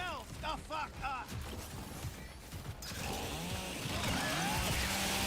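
Jerky, revving video-game chainsaw in chainsaw mode, loud and close with mechanical grinding, starting after a second of other game sounds and running steadily to the end, partly under game voices.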